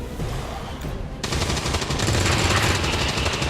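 Rapid automatic gunfire from XCOM fires on a Lost Dasher enemy in a loud, continuous rattling burst lasting a few seconds, close and dense.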